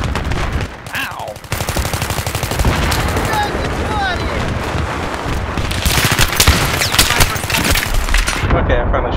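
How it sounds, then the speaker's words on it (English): Rapid gunfire from a player's weapon in the shooter Battlefield 3, loud bursts of automatic shots with a brief lull early on, then sustained firing mixed with other battle noise. "Okay, I finally shot my gun"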